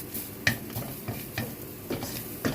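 Chopped garlic is stirred and fried in a dry pan holding leftover oil from frying fish. There is a close, continuous sizzle, with repeated scraping strokes of a utensil against the pan.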